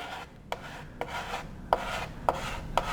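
Glazing putty is worked over Bondo filler during a hole repair on a racing shell. A steady scraping rub runs throughout, with five sharp ticks spaced about half a second apart, close and moderately loud.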